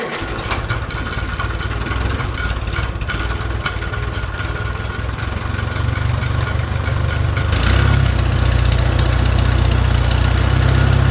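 A small beginner tractor engine, cranking slowly after sitting over winter, starts and settles into a steady idle, growing louder and fuller partway through and running continuously close by without talk.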